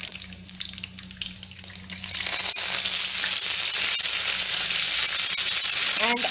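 Mustard seeds in hot oil for a spicy bitter melon dish, starting as a quieter steady hiss that swells into a loud continuous sizzle with scattered crackling pops.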